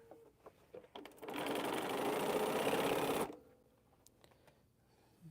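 A sewing machine stitches quilt pieces in one steady, fairly loud run of about two seconds, framed by quiet handling clicks and taps before and after.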